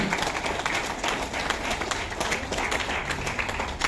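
Seminar audience applauding in a hall, a steady dense wash of clapping that runs the whole time at an even, fairly loud level with no voices over it.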